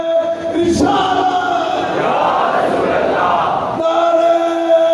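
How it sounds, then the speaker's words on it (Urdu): A crowd at an Eid Mubahila religious gathering roars a slogan in unison, a loud burst of many voices for about three seconds, set between sustained tones of a single leading voice. "سب نعرے لگائیں گے ان کے استقبال کے لیے"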